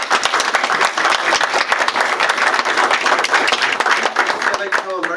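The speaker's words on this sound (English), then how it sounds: "let's give a nice round of applause" Audience at an Amherst, New Hampshire town election debate gives a round of applause: dense, steady clapping from many hands for about five seconds, with a voice starting to talk as it fades at the end.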